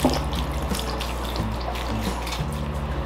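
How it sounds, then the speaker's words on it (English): Water trickles and splashes steadily through the drainage holes of a bonsai pot onto a table, close and fairly loud, with a low tonal hum running underneath. "It's starting to leak down on the table now through the holes, the drainage holes at the bottom."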